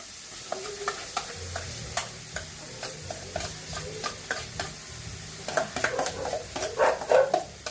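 Garlic frying in hot oil for homemade chili oil, with a steady soft sizzle broken by regular scraping stirs of a utensil against the pan, growing busier toward the end.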